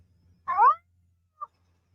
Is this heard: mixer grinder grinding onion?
no